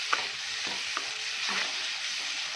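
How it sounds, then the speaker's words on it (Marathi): A spoon stirs ground wet masala paste into onion and tomato frying in oil, with a steady close sizzle broken by a few scraping strokes, no voices. "आता यामध्ये जे आपण वाटण तयार करून घेतलं आहे, ते वाटण ॲड करूया. छान ह्याला पण मिक्स करून घेऊया."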